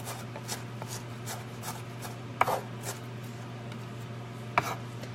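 A knife chops a red onion on a cutting board in quick, regular strokes, with a few sharper knocks standing out over a steady background hum.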